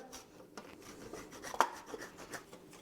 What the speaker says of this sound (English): So let's just put Pecorino on. Just grate it on the grater.